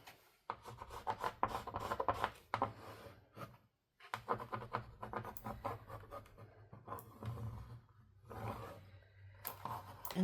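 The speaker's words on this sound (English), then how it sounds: "Oh, I gotta really scrape it down on this type of finish." Scraping down transfer material onto a crafted piece with a Cricut print-then-cut project, rough rasping strokes in long close bursts separated by brief pauses.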